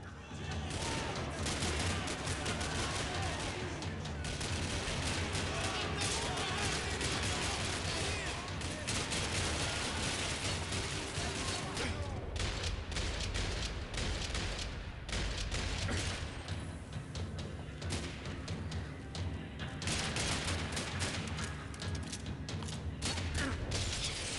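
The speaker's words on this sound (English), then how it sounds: "Another parking lot rattling with gunfire." Dense, sustained gunfire in a parking lot in the video game Max Payne 3, with heavy bursts and rattling volleys that barely pause, loud and continuous throughout.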